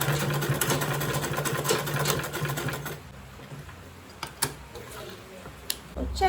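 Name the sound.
sewing machine stitching lining of a makeup bag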